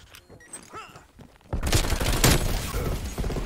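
Gunfire in the video game Call of Duty Cold War: after a quieter stretch with voices, a loud, dense burst of rapid shots and impacts begins and keeps going, with a sharp crack in the middle.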